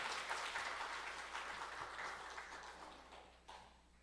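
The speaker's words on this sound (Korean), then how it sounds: "박수 부탁드리겠습니다" Congregation applause at a church worship service, steady soft clapping from a crowd that gradually thins and fades, with no talking.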